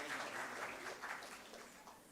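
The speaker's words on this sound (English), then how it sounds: "Give her a round of applause, man." A student audience at a university engineering and computer studies orientation gives a round of applause, with quiet, distant clapping that swells and then tapers off slightly.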